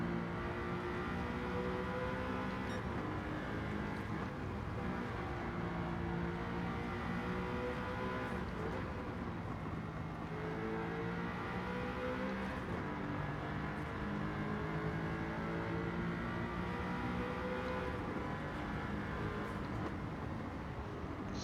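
Audi R8 race car in Gran Turismo 7 on the Tokyo Expressway, its engine droning steadily and loudly throughout with shifting pitch as it brakes, changes gear and accelerates again, no voices.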